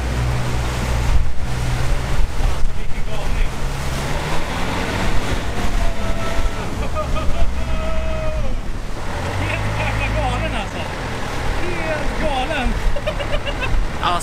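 A boat engine roars as water rushes and slaps past at speed, with excited voices calling out over the noise.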